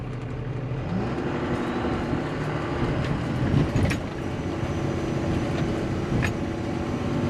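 A Cummins-powered truck creeps along at about 3 mph, its engine giving a steady, loud low drone with shifting tones as the throttle is feathered, close by and continuous throughout.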